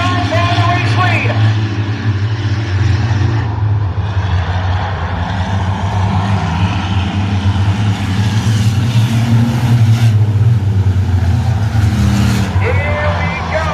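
Race cars at a speedway running side by side down the back straightaway, a loud continuous engine roar filling the whole stretch under constant crowd and announcer-level noise, with no break or distinct pass-by.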